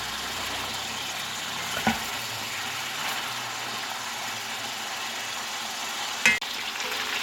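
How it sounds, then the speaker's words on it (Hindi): Chicken frying in a pan toward a stew produces a soft, steady sizzle under a low background hum, broken by two brief sharp clanks of a utensil. "इसको अच्छी तरह गोल्डन होने तक फ्राई कर लेंगे।"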